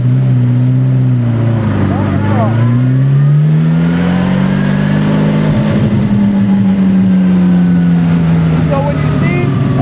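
A 1927 Bugatti Type 51 accelerating in first gear, its engine note rising and falling in pitch as it revs, loud and close, with talk from people in the car over it.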